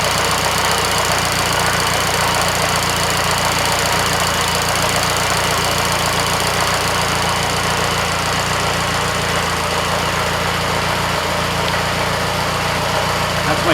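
A 17-horsepower Austin Seven car engine runs steadily, a close, loud, continuous buzzing drone with a knocking rhythm that never lets up.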